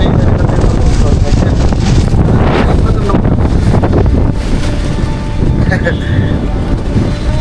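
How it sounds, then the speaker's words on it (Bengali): Strong wind roars across a fifth-floor rooftop, loud, rough buffeting on the microphone that never lets up, with a few faint higher tones briefly poking through. "দেখেন প্রচন্ড বাতাস হঠাৎ করে হঠাৎ করে এত বাতাস"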